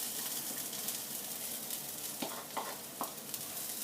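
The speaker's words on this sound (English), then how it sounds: "So I'm going to put the ginger in." Ginger frying in a pan for masoor dal: a faint, steady hiss of oil with a few brief stirring scrapes near the end.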